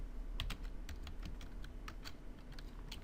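Configuration commands typed on a computer keyboard for router setup, a steady run of quick close keystrokes with small pauses, no talking.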